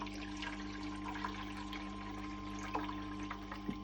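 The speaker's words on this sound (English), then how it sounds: "So I'll put some water in here quick." Water pours steadily into the trough of a Tormek T8 knife sharpener, a continuous low trickle and splash heard close by over a constant electrical hum.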